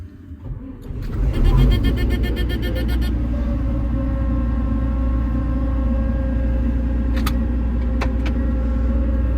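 A 1994 combine harvester engine starts and settles into a loud, steady idle rumble while warming up on a farm field, with a few brief clicks and rattles early on and no talking.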